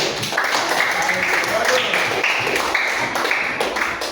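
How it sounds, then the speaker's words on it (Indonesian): Classroom applause for a student during a lesson, a steady broadband patter of clapping hands lasting several seconds at moderate level, with a little talk mixed in. "tepuk tangan dulu untuk Yolen"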